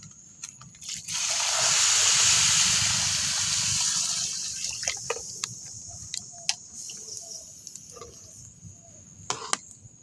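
Water gushes into a pot of fried rice for chicken khichuri, a close, loud pour lasting a few seconds that trails off into light clinks and small kitchen knocks.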